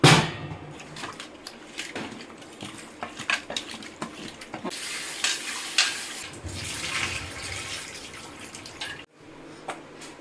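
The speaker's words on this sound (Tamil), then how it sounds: "நல்லா மஞ்சள் தூள் போட்டு அதையும் போட்டு உரசி கழுவிடலாம்" Baby shark fish rubbed with turmeric powder is rinsed under running water in a sink, with splashing, a flowing tap and occasional clinks of a metal vessel.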